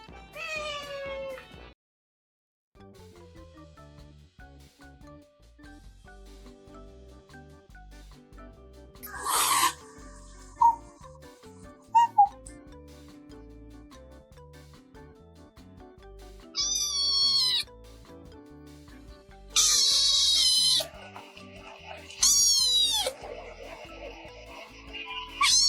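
A cat gives several loud, drawn-out meows that sound almost like talking, spread irregularly through a quiet indoor scene with a steady low tonal hum underneath.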